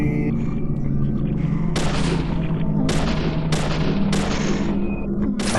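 Cartoonish stock gunshot effects from the Deadly Premonition video game: four or five sharp, loud bangs at a steady, spaced rhythm over a constant rumbling game background.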